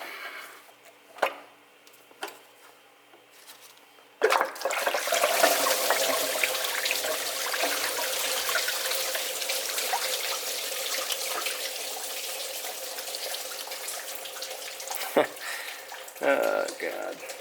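Coolant drains from a removed water pump into a pan with a sudden gush that turns into a continuous splashing pour. A few faint knocks come before it, and it runs steadily to the end.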